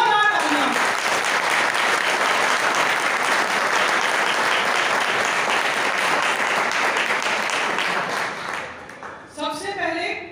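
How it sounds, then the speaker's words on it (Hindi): Loud, sustained applause from a crowd at a Hindu Yuva Vahini gathering in Shalimar Bagh, honouring the women volunteers. Dense clapping holds steady for about eight seconds, then fades as a voice starts speaking near the end. "तो सबसे पहले महिला शक्ति के लिए एक जोरदार तालियां।"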